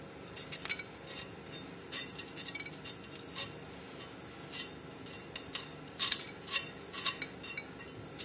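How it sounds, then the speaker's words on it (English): A knife chopping half a chilli on a board: quick, light irregular taps and clicks, fairly faint and close, with no talking. "And then we're just going to chop this up as well."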